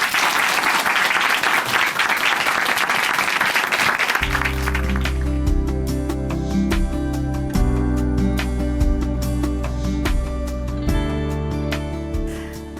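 An audience gives a church guest a welcoming round of applause, loud dense clapping for about four seconds, then it gives way to sustained music carrying on to the end.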